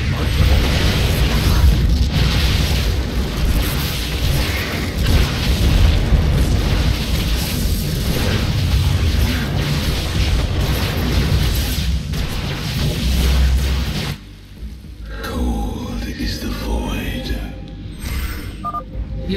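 A deep, sustained booming rumble of a Tal'Darim cannon exploding in StarCraft II: Legacy of the Void, with heavy low-end crashing that cuts off abruptly into quieter ambient effects.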